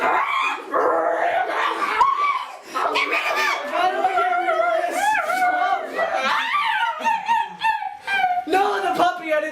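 A puppy's barking and yipping sound effect in a party game, sharp repeated yelps mixed with whimpers, heard under continuous lively talk and laughter from several people.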